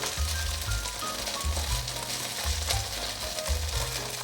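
Food sizzles steadily in a frying pan as pieces are laid in and pressed into shape, a dense, even hiss with soft rhythmic scraping or pushing underneath at about one-second intervals.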